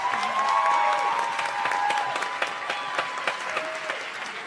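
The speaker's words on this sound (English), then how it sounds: "let's give the Oswego Gospel Choir another round of applause" An audience applauds the Oswego Gospel Choir at a SUNY Oswego performance, a steady wash of many hands clapping that swells early and then thins to scattered claps, with a faint tone lingering underneath.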